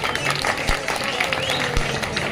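A crowd at a MIM (Majlis Ittehadul Muslimeen) political campaign rally applauds for ward 5 candidate Ajju Pehelwan, steady clapping mixed with crowd voices and talk, a couple of sharp thumps standing out.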